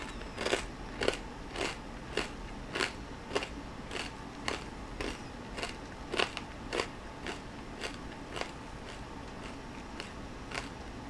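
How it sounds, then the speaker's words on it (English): Corn nuts crunched with the mouth closed, giving a steady series of sharp, close crackling bites roughly every half second, loud and crisp against a quiet background. "corn nuts are in my mouth. I'm going to start chewing now,"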